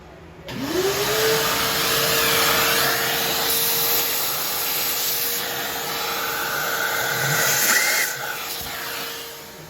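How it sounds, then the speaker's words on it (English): A shop vac runs steadily and loud for nearly ten seconds, sucking rust out of a spark plug hole on an old Jeep Wrangler TJ engine, with a rising whine as it spins up and a slight pitch shift as the nozzle moves. "I gotta kind of suck that out somehow with a shop vac"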